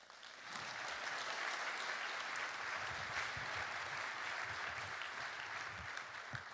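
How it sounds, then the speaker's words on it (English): Steady, sustained applause from a large audience at a conference opening ceremony, welcoming the founder; the dense clapping swells in after a brief quiet start and holds evenly for several seconds. "I would like you to put your heartful round of applause together to our founder"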